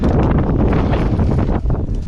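Steady, loud wind buffeting a microphone, a broad rumbling roar with gusty fluctuations throughout, no voices.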